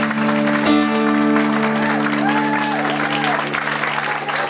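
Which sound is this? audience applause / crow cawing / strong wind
audience applause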